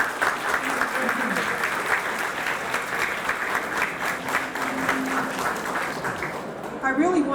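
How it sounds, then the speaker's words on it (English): Sustained audience applause at the grand opening of a Black history museum and cultural center in Virginia: a dense, even roar of many hands clapping for several seconds, with crowd murmur underneath, thinning out near the end. "So clap, please."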